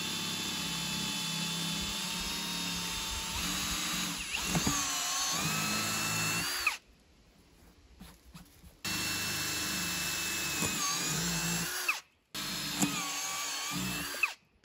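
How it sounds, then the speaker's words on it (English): Power drill boring holes into the upper sidewall of a rubber tire for a tire swing, a steady high whine running for several seconds, cutting off briefly, then resuming twice more. "Next, we're going to drill three evenly spaced holes in the upper portion of the side wall"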